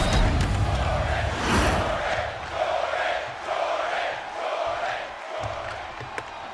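A community wrestling crowd chants and cheers in rhythmic swells, a loud, roomy roar rising and falling in repeated waves, with a commentator's voice heard faintly beneath.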